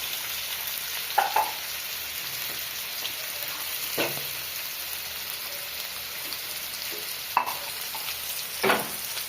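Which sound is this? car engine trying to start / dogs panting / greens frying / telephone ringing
greens frying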